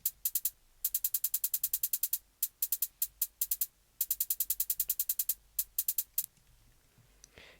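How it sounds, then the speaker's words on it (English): A simple hi-hat pattern in an FL Studio trap-style beat: crisp, bright ticks in quick even runs, broken by short gaps and a few single hits, playing alone at moderate level before fading out. "Then next up we have this hi-hat with a pretty simple hi-hat pattern."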